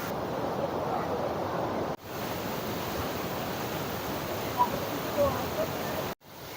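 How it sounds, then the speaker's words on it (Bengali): Fast water rushing down from Kanchenjunga beneath a bamboo footbridge near Pelling, a steady broadband roar that stays loud and continuous, broken by two brief dropouts. "এখান থেকে জলটা নামছে। কি স্পিডে দেখুন"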